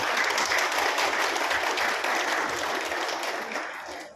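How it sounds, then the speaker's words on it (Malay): Hall audience applauds at the launch ceremony of a Sarawak YouTubers' association, a dense, loud round of clapping that holds steady, then tapers off near the end. "Tepuk tangan semua."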